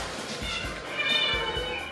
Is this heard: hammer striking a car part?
no